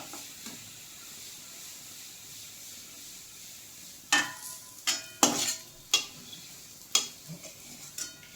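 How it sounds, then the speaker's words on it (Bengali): Fried onions being lifted out of sizzling oil for a spinach and yogurt dish: a faint background sizzle, then a handful of sharp, close spoon clinks and scrapes against the pan, with no one speaking. "এবার আমি এটা তুলে নিচ্ছি তেলটা মানে ঝরিয়ে একটু তুলে নিচ্ছি"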